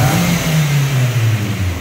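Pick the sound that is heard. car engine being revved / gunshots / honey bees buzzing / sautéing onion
car engine being revved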